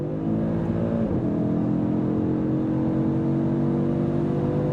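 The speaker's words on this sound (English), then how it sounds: "The 5-cylinder has shown up to the party." A 2024 Audi RS3 with its five-cylinder engine pulls hard under acceleration. A loud, continuous engine roar rises in pitch after a quick gear change and holds steady from inside the car.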